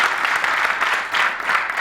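A TV studio audience claps continuously, a dense, loud wash of applause that holds steady throughout the short stretch.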